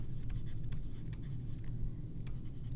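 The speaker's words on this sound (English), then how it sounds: "I'm going to write this down here" Pen or pencil writing on paper or a board, with short scratchy strokes repeating steadily over a low background hum, close and fairly quiet.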